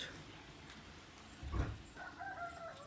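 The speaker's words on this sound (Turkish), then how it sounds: "Evet bak tavuklar susalmış Tarık." Chickens cluck and crow in an outdoor village yard, with a short thump partway through and some background noise.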